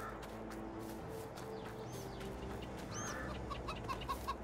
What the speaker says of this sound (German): Und hier haben wir schon mal ein Hühnergehege, was kein Wasser braucht und aber schon mit 7 Hühnern bestückt ist.